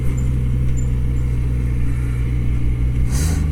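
A Kawasaki ZX-25R motorcycle, Indonesian-market version, runs under throttle while riding through town at low speed, its steady engine drone loud and close, rising in pitch near the end.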